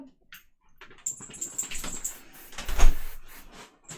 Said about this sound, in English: Hello, puppies.